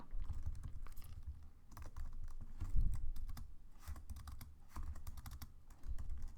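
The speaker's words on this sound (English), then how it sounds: "my typing sometimes gets very awkward" Quiet, uneven typing on a computer keyboard, with soft key clicks in irregular bursts and brief pauses, heard close up with no talking.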